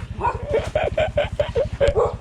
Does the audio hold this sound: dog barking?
yes